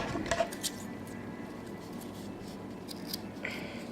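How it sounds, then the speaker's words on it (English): Scissors snip crochet yarn while a granny square is being made, a brief close cut near the start followed by light handling rustle, with no talking. "you can snip that off right now"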